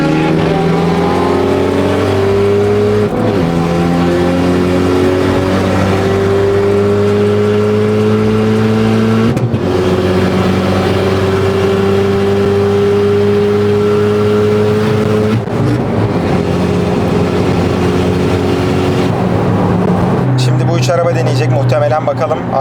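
Turbocharged B58-engined BMW 240i launching hard at a night drag-race event in Istanbul, loud rising engine harmonics climbing through repeated gear changes, with brief shift breaks and crowd commentary over the roar.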